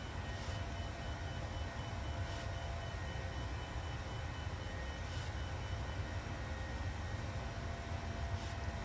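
A simulated airliner in Microsoft Flight Simulator roars steadily through its takeoff run, a loud, even engine drone that stays constant throughout with no voices.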